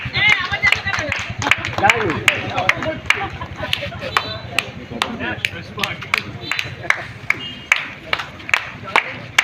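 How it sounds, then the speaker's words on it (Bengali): An audience claps at a memento-giving ceremony during a five-day Bajrangbali festival held by Baliya Friends. Sharp overlapping claps rattle on steadily for the whole stretch, fairly close and loud, with a murmur of voices beneath. "একবার জোরে হাততালি"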